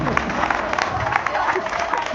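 Audience applause at a gathering honouring a woman appointed police sub-inspector, a dense, steady clapping for a couple of seconds with a voice faintly underneath.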